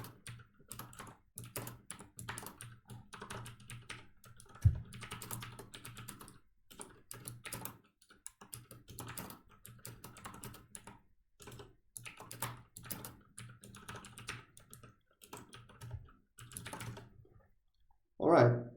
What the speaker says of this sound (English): So let me type the nested for loop first and explain to you later.